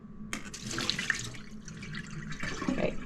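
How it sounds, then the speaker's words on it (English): Running water from a tap splashing over tomato seeds in a strainer as they are rinsed, a steady close gush with shifting splashes and a brief break before the flow picks up again. "I'm gonna strain the seeds out into the strainer, and then we'll rinse them in the water"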